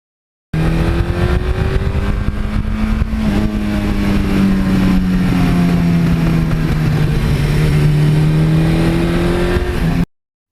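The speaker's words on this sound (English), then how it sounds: "that 86 exhaust system that I got from the late Frank Straub. Thank you, Frank. That has just the right amount of rumble" A Suzuki GS1100E motorcycle with an 86 exhaust system cruises along, its engine rumbling loud and steady with a deep droning note that slowly rises and falls, continuous for about ten seconds with no talk.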